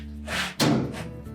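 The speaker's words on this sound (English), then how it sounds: "close the door up" The door of a GE clothes dryer is swung shut after a repair, a soft movement and then one solid thunk that fades quickly.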